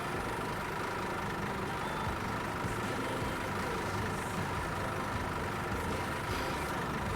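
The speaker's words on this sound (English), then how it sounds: "how you think the engine sound is" Steady, unbroken low rumble of a bus engine idling in The Bus driving simulator, holding a constant level with no voices over it.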